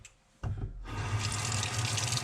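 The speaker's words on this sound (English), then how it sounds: "And then I will water them again" Cool water gushes steadily onto pea shoots after a brief click, running close and continuous like a tap stream.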